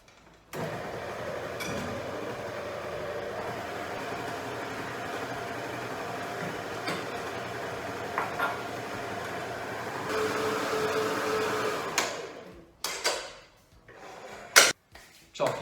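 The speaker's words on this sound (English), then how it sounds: "you can now add your eggs one by one, mixing a little in between" Eggs are beaten one by one into dark chocolate and coffee mud cake batter, a steady continuous whirring that runs for about eleven seconds before giving way to a few sharp clatters and knocks.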